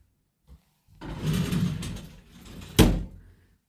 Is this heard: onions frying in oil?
no